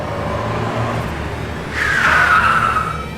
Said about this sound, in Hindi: ये तो मोना की गाड़ी लग रही है।